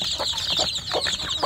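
Free-range village chicks (ayam kampung) chirping in the warm morning, a busy chorus of high peeping calls with repeated short cheeps, close and continuous.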